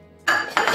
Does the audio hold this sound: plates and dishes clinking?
yes